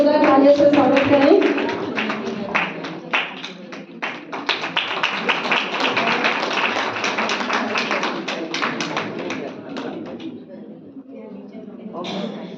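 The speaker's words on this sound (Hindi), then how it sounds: "जोरदार तालियों से स्वागत करें" Loud audience clapping welcoming a guest at a ceremony, a dense burst of many hands that thins toward the end while voices carry over it.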